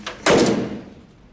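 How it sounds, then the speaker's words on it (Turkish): A door is forced open with one sharp, loud bang and a slam, followed by a brief fading rattle in a domestic setting. "Ben bu kapıyı kırdım."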